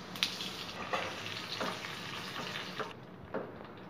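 Steady crackling sizzle of cumin and curry leaves frying in hot oil for a tempering, with a few soft stirring clicks, close and fairly quiet.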